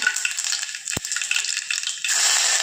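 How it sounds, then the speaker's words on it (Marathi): Cumin, mustard seeds and red chilies crackle and sizzle in hot oil, a loud close hiss with a single sharp knock partway through and a brighter burst of sizzling near the end. "तेल छान आपलं गरम झालेलं आहे. यामध्ये आपण जिरं टाकू, मोहरी टाकूया अर्धा चमचा, जिरं टाकूया, लाल मिरच्या"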